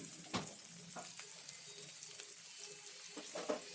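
Green chillies frying in a pan for brinjal chutney, a steady broadband sizzle with a few brief stirring scrapes, close and moderately loud, no talking.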